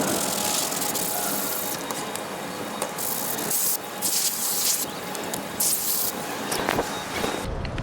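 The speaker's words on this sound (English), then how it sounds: "we're going to spray on some mildew stain remover and see how it looks" Repeated bursts of spray from a bottle of mildew stain remover hit mould-stained cushions aboard a catamaran, a steady hiss broken by several short squirts and trigger clicks, close and fairly loud, with no talking.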